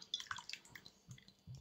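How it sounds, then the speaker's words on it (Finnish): Glögi concentrate poured from a container into a pot of water in a home kitchen, with a soft, uneven trickle and splash of liquid running for a couple of seconds, quiet and close. "mä kaadan tästä nyt tätä glögitiivistettä"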